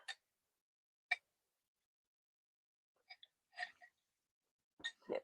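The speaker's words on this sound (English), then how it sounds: "Oh my god, I have the hiccups." Hiccups from a woman, several short sharp catches spaced about a second or more apart, close and fairly quiet against silence, with a faint breath between them.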